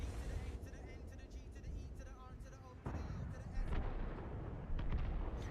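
A T30 tank cannon in World of Tanks fires with a deep, booming report over a constant low engine rumble, with people talking throughout.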